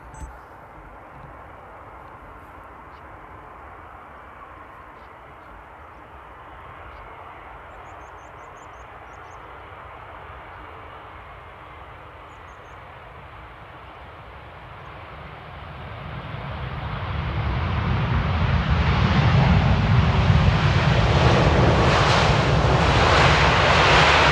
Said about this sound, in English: Alright, time for the Dreamliner.